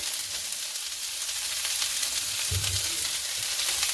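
Beans, carrots, cabbage and leeks sizzle steadily in a hot pan for fried rice, a loud continuous frying hiss with a brief stir partway through.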